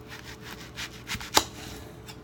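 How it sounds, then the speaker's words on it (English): A knife slicing a whole onion in half on a cutting board, soft scraping strokes followed by one sharp, close thunk as the blade hits the board. "you're just going to take the onion whole and just cut it in half"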